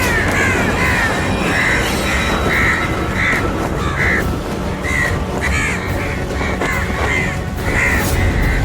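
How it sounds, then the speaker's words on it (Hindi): Crows caw repeatedly at close range, a series of harsh, evenly spaced calls over a constant noisy background. "वो कौवे टकरा गए हैं।"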